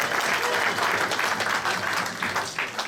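A jazz festival audience applauds a hot trombone solo in a dense, sustained wash of claps that stays fairly loud and even, fading slightly near the end.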